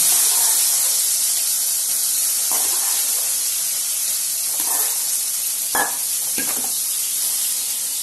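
Boiled raw plantain goes into a hot kadai, giving a broad steady hiss like steam with a few soft scrapes and clinks of stirring, no voices.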